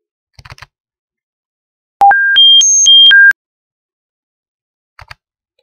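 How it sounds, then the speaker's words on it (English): A synthetic alarm-clock tone plays from a batch file through a computer media player: one quick run of six clean electronic beeps stepping up in pitch and back down, with faint clicks just before and after. "if you want to hear the alarm sound, listen for the next 5 seconds after I finish talking"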